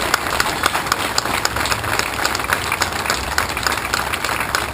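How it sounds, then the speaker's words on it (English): A crowd at a 9/11 memorial motorcycle ride gathering claps for first responders, dense, steady outdoor applause with scattered sharp claps popping above the wash, fairly close and continuous throughout. "We need a huge round of applause for them."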